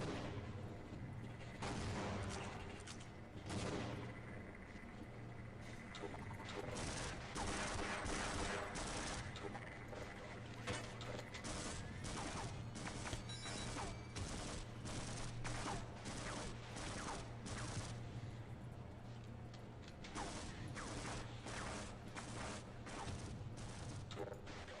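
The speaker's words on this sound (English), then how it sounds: "God, I love this game's grenade launcher." Grenade launcher fire in the video game Half-Life: loud, dense bursts of gunfire and blasts repeat almost without pause for the whole stretch, over a steady low hum.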